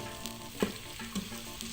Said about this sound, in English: my onions are frying with the ginger